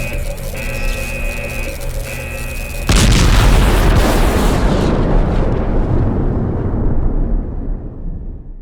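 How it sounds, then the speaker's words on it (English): An energy core explodes in the horror video game Last Days of Lazarus: after a tense electronic hum and beeping, a loud, deep blast erupts and rolls on as a long rumbling, crackling decay that slowly fades. "This thing is going to explode."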